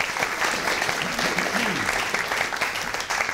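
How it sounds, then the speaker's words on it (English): Steady applause from an audience fills the space, dense clapping throughout, with a voice briefly audible beneath it. "A round of applause for Andrew,"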